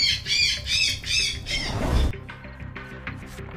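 A bird-call sound effect of four rapid, shrill squawks in a rising-falling pattern, loud and close, followed by a noisy burst and softer chirping tones.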